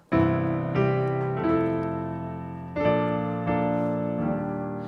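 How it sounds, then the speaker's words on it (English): Piano chords ring out one after another, each struck firmly and left to sustain, forming a slow, lush progression of major seventh chords. "major 7 chords sound like this in a chord progression"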